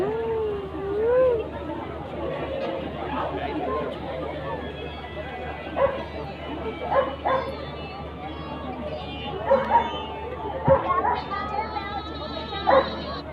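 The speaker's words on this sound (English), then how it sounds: "German Shepherd, it's a German Shepherd breed." A German Shepherd barks at a dog show. Several short, sharp barks pop out intermittently over a steady bed of crowd chatter and PA-style speech at an outdoor festival.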